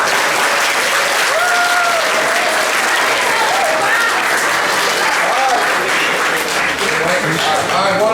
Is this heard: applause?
yes